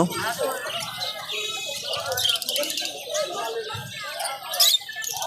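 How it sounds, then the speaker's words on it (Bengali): Small caged birds chirp and tweet at a busy outdoor pigeon and bird market, with high twittering calls scattered throughout under steady crowd chatter and nearby talk. "এখানে কিছু পাখি আছে"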